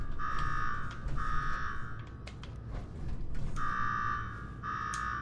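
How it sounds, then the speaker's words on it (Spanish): In Fallout 4 Nuka-World, an electronic alarm rings in repeated bursts of a harsh buzzing tone separated by short gaps, moderately loud over a rumbling background. "Ahora ve y apaga esa maldita alarma"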